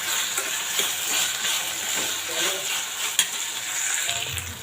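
Tomatoes and about ten garlic cloves frying in a pan for tomato mint chutney, a continuous close sizzle with faint stirring scrapes and occasional pops, no talk.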